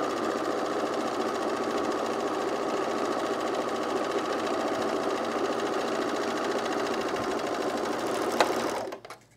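A serger runs steadily while stitching jacket layers together for a men's utility jacket, a dense continuous mechanical whir that holds level for about eight seconds before stopping abruptly near the end.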